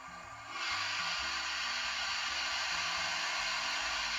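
The digital sound decoder on a Hornby A1 Tornado TTS model steam locomotive plays its cylinder cocks effect: a sudden loud hiss of steam that stays steady over a low chuffing, murmuring background.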